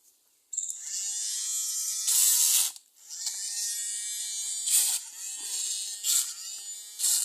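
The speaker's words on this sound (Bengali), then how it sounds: "আমরা এই কাটার মেশিন দিয়ে আমরা এখন কচুর গাছ কাটবো" Homemade rechargeable cutting machine driven by a 775 motor, slicing through a taro plant: a high-pitched buzzing whine starts abruptly, then rises and bogs in several surges as the blade bites into the stalk, close and loud.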